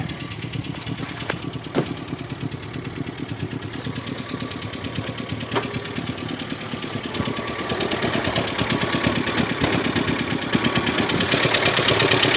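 A 1987 Subaru with a 5-speed dual-range manual, 344,000 miles on it and a carbureted engine, idling steadily and evenly, close by, with no talk over it and a slight rise in loudness toward the end.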